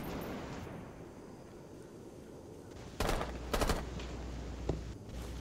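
Video game gunfire breaks out after a quiet stretch, with sharp bursts of rapid shots and a few louder single cracks, fairly distant and echoing over low background noise.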